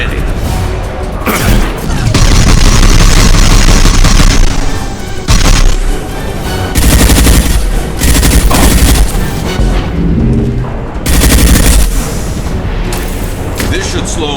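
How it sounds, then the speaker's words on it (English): Concussive shot and gunfire from a Mass Effect 2 Legendary Edition firefight, with loud repeated booms and bursts of gunfire that run almost continuously and drop away only briefly. "Concussive shot ready."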